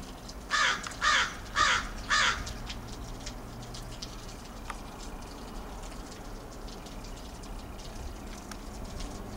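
Four loud crows caw in quick succession close by, each harsh call evenly spaced, followed by quieter outdoor ambience with faint scattered clicks and a soft distant rumble.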